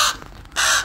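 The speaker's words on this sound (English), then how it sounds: "Raven Oscar screaming for food" A pet raven screams for food from an aviary: two harsh, loud, close caws with a short gap between them; no talk.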